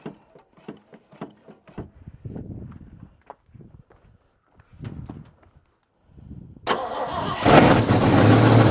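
A scrap truck with a leaking carburetor cranks in short uneven bursts, pauses, cranks again, then catches into a loud steady rumble near the end.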